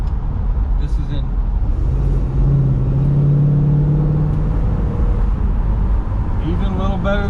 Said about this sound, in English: Does sound good with those turbos on it. Those flow masters.